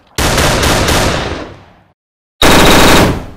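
Machine gun fire in the video game PUBG: a loud, rapid burst of automatic shots that tails off, then after a brief gap a second sustained burst, with no talk over it.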